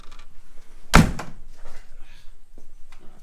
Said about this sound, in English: that door closing was a bit loud for you